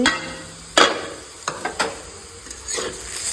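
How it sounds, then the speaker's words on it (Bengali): Potatoes frying in a pan give a steady hiss and sizzle throughout, broken by a few sharp clacks of stirring or utensil knocks against the pan, close and moderately quiet. "এই যে এখন আলু ভাজা হচ্ছে"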